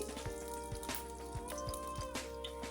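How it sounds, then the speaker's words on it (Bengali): Black cumin seeds sizzle and pop in hot oil in a pan, with quiet, closely spaced crackles and soft ticks against a faint steady background. "এখন আমি ফোড়নে দিয়ে দিব সামান্য কালো জিরা"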